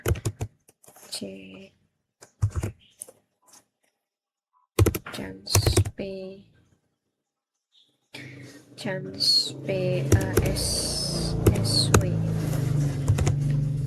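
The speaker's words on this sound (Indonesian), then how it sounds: "Setelah itu kita ketikkan di sini passwordnya adalah sama seperti tadi ya" Someone typing a password on a computer keyboard: short bursts of quick key clicks, sparse at first and then a denser, steadier run of taps, with a voice speaking between the early bursts.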